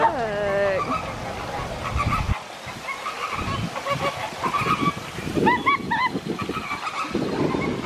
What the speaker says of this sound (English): Look, the flamingos are up here.